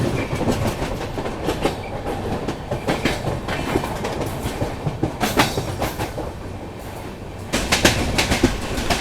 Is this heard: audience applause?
no